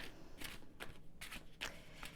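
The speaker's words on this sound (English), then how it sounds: "I'm actually being distracted by shuffling here" Playing cards being shuffled in quick, soft riffling bursts, roughly six papery flurries spaced unevenly, quiet and close, with no voices.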